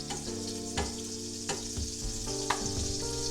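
Pancake batter frying in melted butter in a pan, a constant close sizzle broken by a few soft knocks and scrapes.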